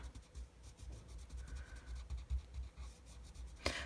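Soft, quiet scratching of a colored pencil shading back and forth across paper in short uneven strokes, ending with a slightly sharper scrape.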